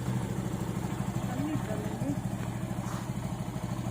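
During a riding lesson, a motorcycle engine idles in a low, steady, fairly faint hum while people talk nearby.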